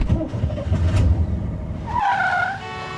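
Cars move through busy holiday traffic on Glenstone, with engines swelling and a tire squeal rising near the end over a low road rumble.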